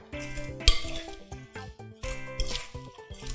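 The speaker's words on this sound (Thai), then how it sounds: "ให้หอมมากขึ้นแล้วก็คลุกเข้าให้เข้ากันค่ะ" A crispy fried vegetable and shrimp salad with chopped parsley and roasted coconut is tossed in a bowl, giving irregular clinks and scrapes of utensils against dishware, close and moderately loud, with no talking.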